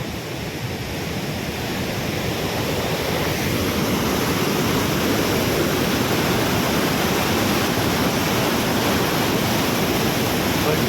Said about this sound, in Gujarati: ફાઇનલી અમે પહોંચી ગયા છીએ ધોધ જોવા માટે અને એકદમ પાણી ઉછળી રહ્યું છે.